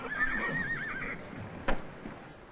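Horse neighing in a 1937 film, a loud wavering whinny up front that trails off, followed by a single sharp hoof clop and quieter shuffling.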